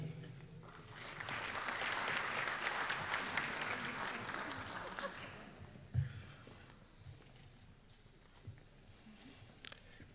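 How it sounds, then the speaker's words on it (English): Applause rises from the audience at a medical college commencement for the graduates, a broad swell of many hands that builds, holds, then thins into scattered claps and faint room noise. "Let's give them a big round of applause"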